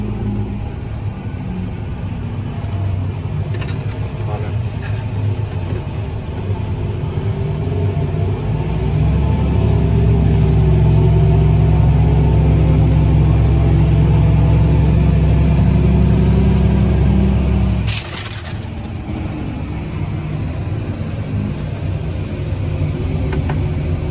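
A Fendt 1050 tractor with a Gen 1 cab and CVT, working a corn-harvest grain cart, runs with a deep, continuous engine rumble that swells louder midway, then drops back after a brief knock.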